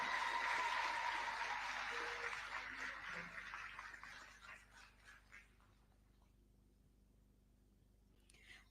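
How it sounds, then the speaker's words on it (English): Audience at a Global School Meals Coalition meeting applauds, a broad clapping wash that is fairly strong at first and then fades to near silence, with faint voices underneath. "A round of applause,"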